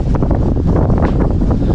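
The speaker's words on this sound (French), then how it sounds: "On a pas mal de vent." Steady wind gusting over a sailboat at sea, with a continuous broadband rush and low rumble that swells and dips slightly, loud and close to the microphone, with no talking.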